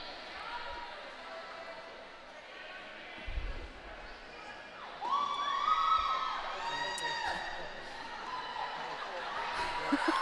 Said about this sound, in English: There was definitely a serious lack of crowd participation on that Mexican wave.